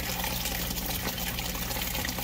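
Water splashing over the edge of a DIY flood drain with a bell syphon, a continuous close gushing and splattering with a low pump-like hum underneath.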